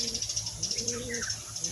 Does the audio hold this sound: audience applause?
no